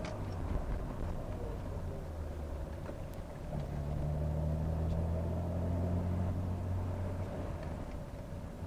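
A Nissan Skyline R32 GT-R with a carbon fiber hood drives over a rough patch of road, giving a steady, close engine drone and tire rumble throughout.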